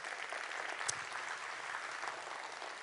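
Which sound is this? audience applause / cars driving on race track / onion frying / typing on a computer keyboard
audience applause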